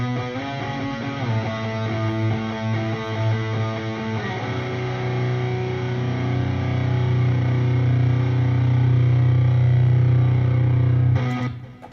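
Distorted electric guitar through a Neural DSP Archetype Petrucci amp plugin with a dynamic 2500 condenser FET cab, a steady heavy riff that shifts into long sustained low chords before cutting off near the end, loud and alone.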